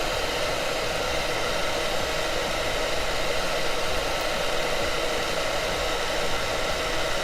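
A blow dryer runs continuously close by while drying painted Tyranid miniatures, a loud steady whooshing hiss with no change in pitch and no voices.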